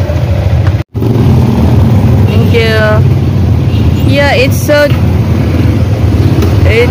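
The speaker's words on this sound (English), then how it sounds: "so traffic, getting busy in the road." Busy road traffic in Dipolog City with cars and motorcycles passing, a steady loud engine rumble and occasional revving, while someone talks briefly over it.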